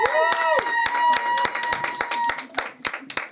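An audience at a speech claps in sharp, rhythmic unison with cheering and whooping voices rising over the beat, close and lively, thinning slightly toward the end.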